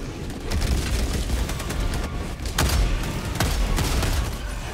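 Breaker shotgun in Helldivers firing repeatedly amid a loud combat scene, sharp blasts punctuating a dense layer of booms and explosions that continues throughout.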